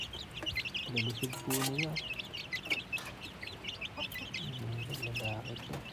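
Young chicks from a white Kelso gamefowl line chirp and cluck in busy, overlapping high peeps close by, with someone talking over them in places.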